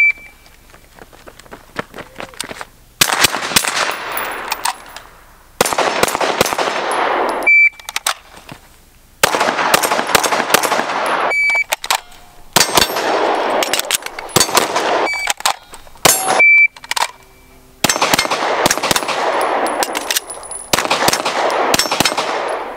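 Gunshots at an outdoor shooting range, loud sharp reports fired in rapid strings and bursts with ringing metallic hits, separated by brief silent pauses as magazines change.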